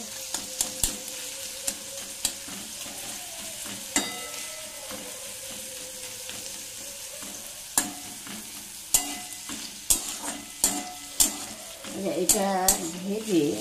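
Maggi noodles frying in a pan while being stirred, a steady sizzle broken by repeated scraping and clinking strokes of the spatula, close and alone without talk.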